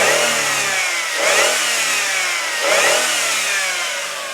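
A 2002 Jeep Liberty Sport 4X4 with a PowerTech 3.7 engine idles and is revved twice in quick succession, each rev rising sharply then falling back to a steady hum, close and loud with no voices.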